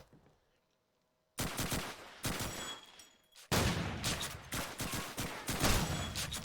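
Bursts of M1 Garand rifle fire in a Call of Duty 2 match, with dense volleys of overlapping shots after a brief quiet start, loud and continuous through most of the stretch.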